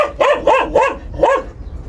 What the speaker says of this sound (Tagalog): Ay, huwag nang tatahol-tahol.